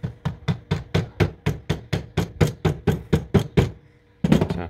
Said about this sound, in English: Tap on with a rubber mallet.